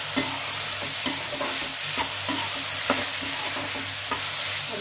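Diced tomatoes stirred into sizzling green peas in a pan while cooking spinach dal, a steady fry hiss with regular scraping stir strokes about once a second, close and clear with no talk.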